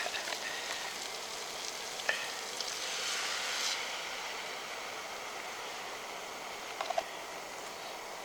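Scrambled eggs fry in a pan at a camp stove outdoors, a steady soft sizzle with occasional light scrapes and taps of a utensil, moderately quiet and continuous, no talking.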